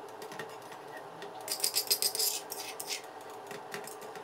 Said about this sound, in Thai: ตักพริกแกงของเรานะครับลงไปใส่ในหม้อเลยครับแล้วก็คนให้ละลายกับน้ำเลยนะครับ